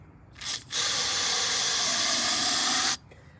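A short aerosol spray burst of mass airflow sensor cleaner followed by a longer continuous hissing spray of about two seconds, close and loud, then it stops abruptly.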